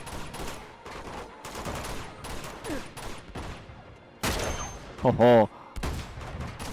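Gunfire in the video game Uncharted: Among Thieves, repeated bursts of shots in rapid fusillades with gaps between them, a player briefly exclaiming amid the shooting.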